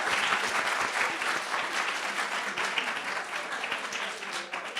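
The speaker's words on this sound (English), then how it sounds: "Oh, let's clap for that" Audience clapping at a college debate event, a dense, steady round of applause from a crowd filling the room at even loudness throughout.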